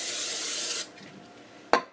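Oil sprayed from a can onto the top of pizza dough makes a steady close hiss for under a second, then stops, followed by a soft rustle and a sharp tap near the end.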